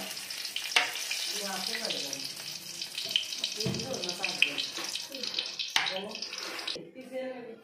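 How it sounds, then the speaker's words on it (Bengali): Whole dried red chillies frying in hot mustard oil in a home Bengali kitchen, a steady crackling sizzle with bursts of spattering. Someone speaks over it in a hoarse voice throughout. "আমি এখন দিয়ে দেব সর্ষের তেল, দিয়ে দেব গোটা শুকনো লঙ্কা"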